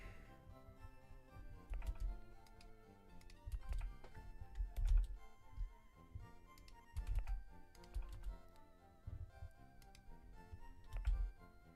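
Typing on a computer keyboard without a number pad, during a Pokémon Leaf Green gaming session: quiet, close clicks come in uneven bursts with short pauses, and there is no talking.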